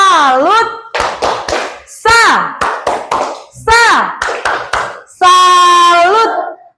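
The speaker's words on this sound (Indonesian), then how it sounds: "Kita tepuk salut dulu yuk." A "tepuk salut" clapping chant in an online class: a voice chants in rhythm with sharp hand claps in quick bursts, ending on a long drawn-out call.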